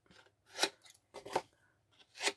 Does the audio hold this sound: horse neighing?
no